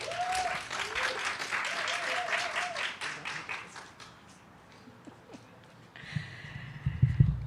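Outdoor crowd at a Somali independence lighting ceremony applauding Councilmember Nancy Day Ackauer, moderate clapping that fades out by midway, followed by quieter scattered sounds and a brief burst near the end.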